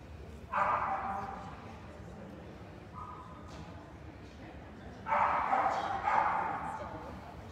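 Keeshond dogs at a national specialty dog show let out two short bursts of barking and yipping, moderately close, separated by a quieter stretch of crowd noise and talk.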